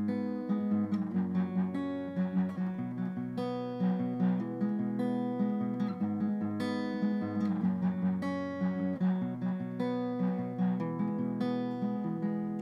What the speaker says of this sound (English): he's going to be picking each chord, and it's going to sound like this